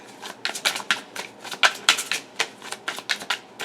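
Tarot cards are shuffled close up in a quiet room, a quick rhythmic run of crisp riffling snaps repeating over a few seconds with no talking.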